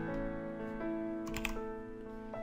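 Keys tapped on a computer keyboard in Excel as a Ctrl+1 shortcut opens the Format Cells dialog: a few light clicks, close and fairly quiet, over a steady hum.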